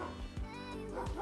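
A neighbor's dog sounds off nearby in a short indoor burst, a couple of low woofs and yips cutting through a steady background hum.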